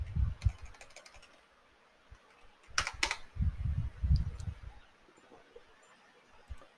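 Fingers typing on a computer keyboard in short bursts of close clicking keystrokes, separated by quiet pauses, with low muffled thumps between them.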